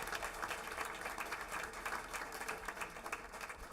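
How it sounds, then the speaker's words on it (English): A room at a board meeting fills with steady applause that holds at an even, moderate level. The sound is somewhat distant and continues without a break. "So let's give them another round of applause."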